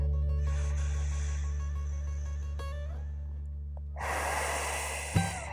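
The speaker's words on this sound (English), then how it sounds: "Breathing in. And out." During a hip-stretching dance warm-up, one slow, airy breath is drawn in and let out close by over a soft steady background hum, ending in a short sharp puff.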